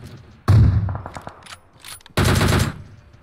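Two loud, sustained bursts of automatic gunfire in the mobile battle royale game PUBG Mobile, rapid rattling shots close up, separated by a short pause with a few scattered pops.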